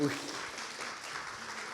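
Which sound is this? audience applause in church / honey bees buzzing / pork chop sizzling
audience applause in church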